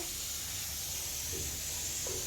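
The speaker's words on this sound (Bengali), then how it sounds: "এদিকে হচ্ছে মূলো শাক ভাজা এদিকে দুধটা জাল হচ্ছে" Radish greens fry on a home stove beside a pot of milk coming to a boil, making a soft, continuous hiss and sizzle at moderate distance, unbroken and without talk.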